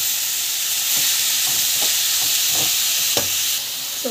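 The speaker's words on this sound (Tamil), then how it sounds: "நல்லா வந்து வதக்கிடுங்க" Onion, tomato, coriander and mint are sautéed in a pan, giving a steady sizzling hiss broken by a handful of soft scraping stirs and taps of the spatula, with no speech.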